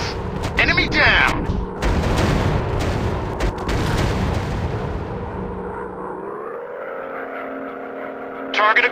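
Rocket and gun fire from a WW2 fighter plane in the Android game Warplanes, dense rattling bursts over a droning engine that fade into a rising whine; a voice speaks briefly.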